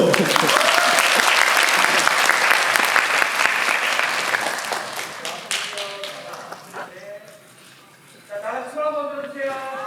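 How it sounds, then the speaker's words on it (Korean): Loud, dense applause fills a film festival guest-visit event at BIFF, then slowly fades, and people begin talking as the clapping dies away. "박수 한번 주세요."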